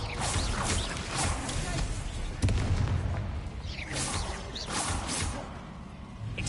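A Bombarda blasting spell in Hogwarts Legacy goes off with a burst of booming explosive impacts and whooshes amid ongoing game effects, one heavier hit standing out partway through.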